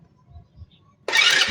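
A motorcycle engine that had been refusing to start turns over and catches, bursting into a loud running roar after a second of quiet low rumbling.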